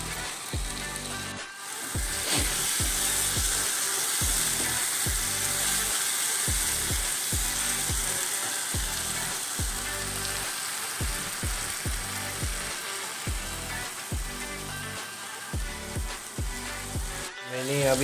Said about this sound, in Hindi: ड्राई फ्राई करके ले रहा हूँ विथ ऑयल.